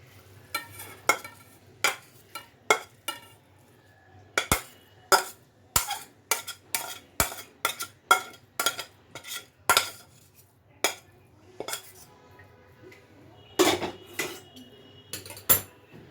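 Cauliflower keema being served from a pan onto a plate: a steady series of sharp metal spoon scrapes and clinks against the pan and plate, repeated in quick irregular strokes, close and clear with no talk.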